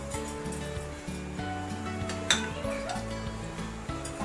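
Chili, cumin and turmeric powders frying in a pan for a Konkani-style raw mango pickle, with a soft continuous sizzle, stirring scrapes and a sharp metallic clink of a spoon against the pan.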